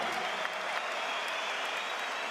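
Crowd applause rolls through a boxing arena for heavyweights Joseph Parker and Dillian Whyte, a steady, dense wash of clapping with no break.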